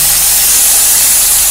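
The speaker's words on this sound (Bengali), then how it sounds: "এই পেস্টটা কিন্তু এই তেলেতে আমি ঢেলে দেবো।" Spice paste goes into hot oil in a pan with a bay leaf already in it, and a steady, loud sizzling hiss runs unbroken throughout with no talking.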